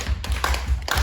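Several loud, close claps ring out at a youth worship service, about five distinct hand hits in a brisk, fairly regular rhythm.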